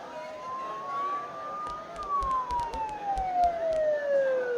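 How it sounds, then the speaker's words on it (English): Police sirens in the video game Persona 4 Golden, a wailing tone sweeping up and down and fading as if passing nearby, over a low rumbling background with faint clicks. "Don't those sirens sound really close?"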